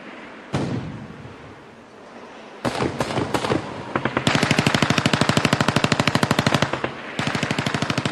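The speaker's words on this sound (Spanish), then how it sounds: "Después de un intercambio de disparos, los egipcios del fuerte se rindieron." Machine guns and rifles fire in an exchange of gunfire during a battle for a desert fort in the Negev: scattered sharp shots, then long rapid bursts of automatic fire, loud and close, with no talk.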